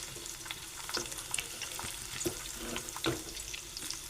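Ridge gourd slices fry in oil in a pan while being stirred, producing a steady crackling sizzle broken by occasional scrapes and small pops from the utensil, close up with no voices.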